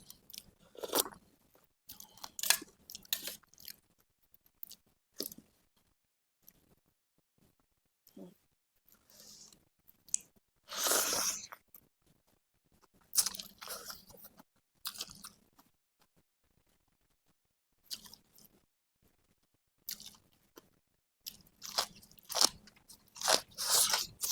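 Khao pun rice noodles in fermented fish sauce with pork sausage, cha-om, morning glory and blanched cabbage are chewed close up in quiet, intermittent bursts of crunching and biting, separated by short pauses.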